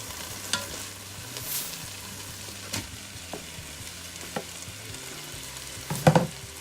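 Pork carnitas mixture with lime juice and cilantro is stirred in a Ninja Foodi pot, a low sizzle under occasional scraping strokes and a louder clatter near the end, with no talk.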